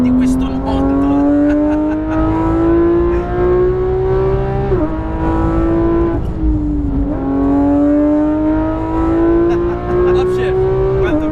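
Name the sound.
sports car engine revving and upshifting on a track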